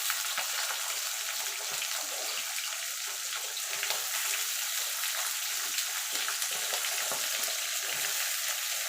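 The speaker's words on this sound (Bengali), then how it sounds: "দেখুন বন্ধু, আলুটা একটু ভাজা ভাজা করে নিয়েছি" Mixed vegetables and lightly fried potato cook in a pan under a dense, even sizzle that holds steady throughout, with soft stirring bumps now and then.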